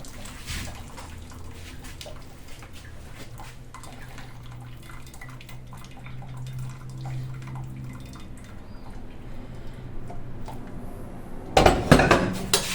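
Hot water draining from homemade coconut fiber substrate being prepared for Pleurotus oyster mushroom growing, a faint continuous trickle and dripping with small clinks, ending in a louder splashing burst near the end.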